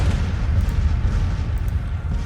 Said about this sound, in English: Because they were under fire from the artillery.